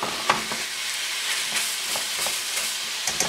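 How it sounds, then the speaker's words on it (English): Ground pork sizzles and fries steadily in a pan, with brief scraping and stirring taps at intervals, close and alone. "I've got our pork in the pan"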